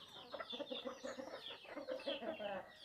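Roosters and hens cluck continuously in a poultry shed, a busy flock of overlapping, fairly faint calls with no talking.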